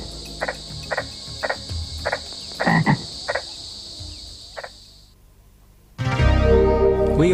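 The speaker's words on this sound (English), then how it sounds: "Frogs balloon vocal sacs in mating calls and dominate the evening chorus." Frogs croaking in an evening chorus by a river, a steady run of short, evenly spaced calls over a high insect-like trill, the trill and calls fading out before a louder, denser burst of calling near the end.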